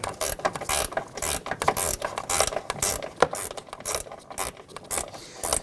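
A 15 mm wrench turns an upper control arm bolt inside the front wheel well of a 2011-2023 Dodge Charger, giving a close, steady ratcheting clatter of rapid metallic clicks.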